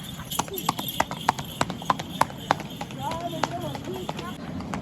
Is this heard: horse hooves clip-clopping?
yes